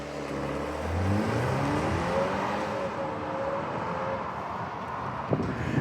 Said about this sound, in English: let's watch this little X1 launch